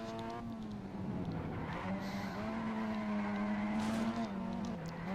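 A car sliding with squealing tires in the racing video game Evolution GT, a steady engine whine wavering in pitch under a hissing skid, continuous and fairly loud.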